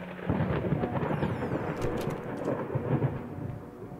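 Low rumbling thunder rolls continuously under steady rain in the video game Layers of Fear, with a few brief higher crackles mixed in.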